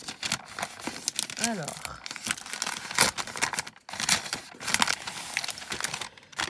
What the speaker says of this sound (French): donc j'ouvre le reste avec vous. Encore une fois, je m'excuse pour le bruit que ça va faire.